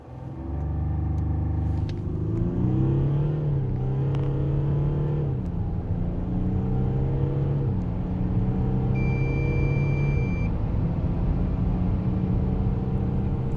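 A Volkswagen Touareg 3.0 V6 TDI diesel SUV accelerates hard from 0 to 100, a loud close engine drone climbing through several gears with brief dips at each shift, heard alone without talk.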